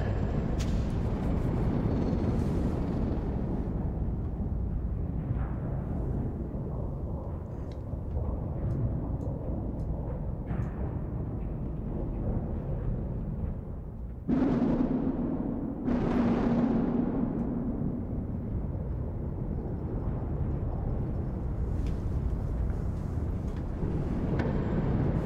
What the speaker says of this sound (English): That's the sound of a horn that's in the subway